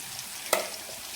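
Onions and crushed garlic frying in a pan as they are stirred, a soft steady sizzle with a single brief scrape or clatter of the spoon midway, fairly quiet and without talk.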